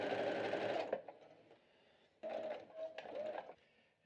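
A domestic sewing machine stitching the side seam of a swimsuit muslin at 5/8 seam allowance, whirring in close, steady runs with a short quieter pause between bursts.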